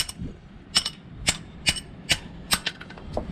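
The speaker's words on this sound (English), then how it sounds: "take your little punch, drop it in there, get a little hammer" Several sharp metallic taps of a small hammer on a punch, spaced irregularly, close by with quiet pauses between strikes, during removal of the 6.0 engine from a 2002 Yukon XL.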